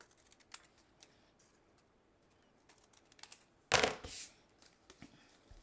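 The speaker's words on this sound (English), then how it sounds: "Now all we have to do is flip it over and cut the sides off." Paper card stock is trimmed along its sides with a blade or scissors: quiet, sparse ticks and light taps, then one sharp, louder slicing crunch near the end with a short scrape after it.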